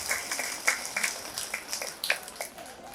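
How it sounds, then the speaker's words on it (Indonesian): A small indoor crowd at a Democratic Party anniversary gathering and bag-weaving training in Kediri gives light, scattered applause, short and fairly soft with uneven claps. "Tepuk tangan untuk Bapak Muhammad Zaini."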